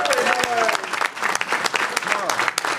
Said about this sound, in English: as they were in the room and he walked in, they applauded